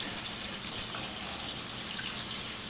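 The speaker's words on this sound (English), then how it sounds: "Let's just drain that water." Water pours out of a draining can in a steady, close splashing rush that holds even throughout, with no talking.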